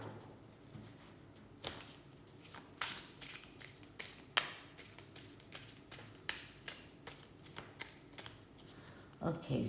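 Tarot cards shuffled and riffled by hand in a quiet room, a series of soft papery bursts and taps in uneven rhythm, close and fairly faint.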